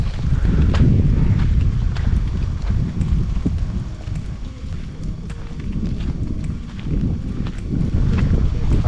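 Strong wind buffets the microphone in a constant low roar at a mountain viewpoint on Doi Hua Mu near Chiang Mai, with scattered small knocks and rustles throughout.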